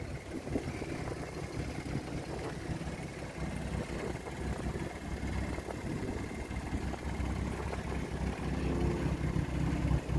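A Morgan Plus Six with a sports exhaust, driven in Sport Plus manual mode, gives a steady, deep engine rumble that holds fairly constant and builds slightly toward the end, with no talking over it.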